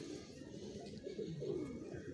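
Pigeon cooing close by, a steady low throaty coo that swells and falls over a couple of seconds, with no voices around it.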